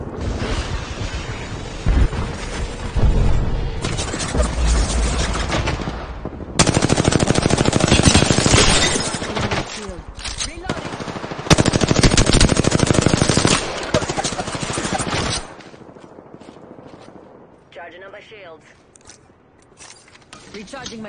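Heavy automatic gunfire and bursts in the battle royale shooter Apex Legends, loud and sustained in long stretches with brief gaps, trailing off into quieter game ambience near the end.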